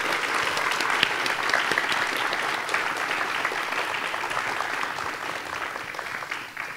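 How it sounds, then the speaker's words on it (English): Audience applause for speakers at the close of a talk on glass, a steady dense clapping from a seated crowd that holds even throughout with no speech over it. "Round of applause for our speakers."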